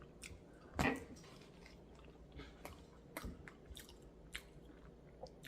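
Close, crunchy chewing of fried hot chicken with mac and cheese, with one loud bite early on and softer, irregular chews and squishy mouth sounds after, without talk.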